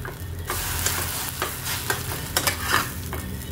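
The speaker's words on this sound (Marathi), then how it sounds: "दोघं साईडने छान खमंग भाजून घ्यायचे आहेत." Pav bread toasting on a hot pan for pav bhaji sizzles steadily up close, broken by repeated scraping and pressing strokes of a spatula against the pan.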